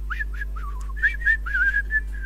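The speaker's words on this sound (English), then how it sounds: "If you want your pizza, you gotta whistle." A person whistles a short, bright tune in an animated comedy scene: several quick chirpy notes, then longer sustained tones, close and clear over a constant low hum.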